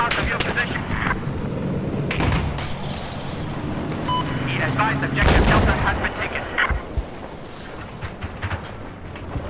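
A tank fires in the video game Battlefield 4 amid a loud battle, heavy booming blasts and gunfire crackling through dense combat noise, with players talking over it.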